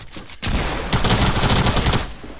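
Loud, dense gunfire from the Fortnite video game fills the space, with a rapid burst of shots that swells into sustained automatic fire and tails off, no voices.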